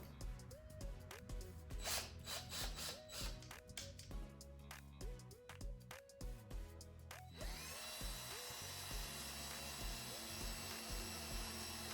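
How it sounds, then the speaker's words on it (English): A power drill whirs in repeated bursts, biting into a wooden dresser drawer, then settles into a steady, continuous grinding run that fills the last few seconds. "so now we're ready"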